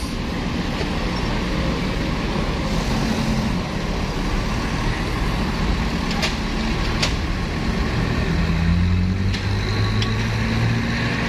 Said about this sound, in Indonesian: Sini juga ada bis Damri